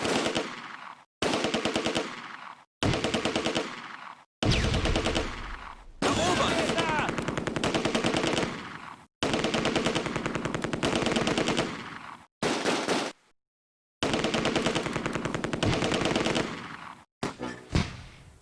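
Machine gun fire from Close Combat: A Bridge Too Far, a World War II battle game, comes in long, loud, rapid bursts split by short silences, close and with no talk.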